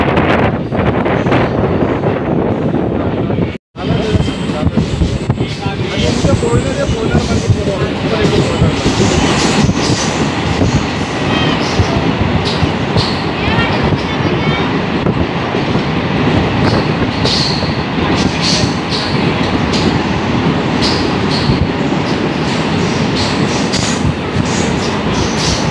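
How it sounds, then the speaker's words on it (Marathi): A moving Konkan Railway passenger train rumbles and rattles loudly throughout, with heavy wind buffeting the microphone and one brief dropout near the start. "आता आपण चालू ट्रेन निघालेली आहे आपली."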